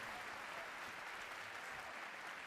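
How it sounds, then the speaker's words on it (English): A large live event audience applauds steadily, a dense, even wash of many hands clapping at a distance with no break. "I want you guys all to give Todd a huge round of applause for his huge contribution to this community."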